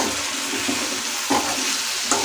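A spoon stirs mushroom masala of onion and spices in a pan, making a soft, continuous sizzling scrape close by with a few light clinks.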